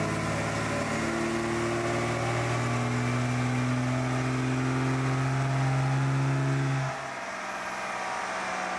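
A 24-valve Cummins diesel with a Quadzilla tune revs hard on a dyno, a loud steady engine drone with rising tones that cuts off sharply near the end, leaving a lower rumble.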